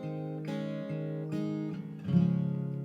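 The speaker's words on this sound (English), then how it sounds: "The main thing with this song is the finger picking." Acoustic guitar finger-picking the verse of the worship song Altogether Good, with steady picked notes changing chords roughly every second and a fuller strum-like swell near the end, played alone without voices.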